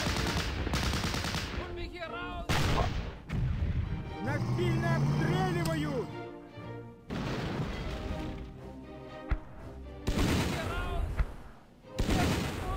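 Gunfire in the war game Battle Academy 2: machine-gun bursts and single shots crack in clusters amid battle effects, with someone talking over them.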